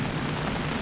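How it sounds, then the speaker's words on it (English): Heavy rain and wind beating on a tent during a severe thunderstorm at a campsite at COTA. It makes a dense, steady, close wash of noise with no breaks. "We're getting rocked right now by 25 mile an hour winds and a lot of lightning and a lot of rain."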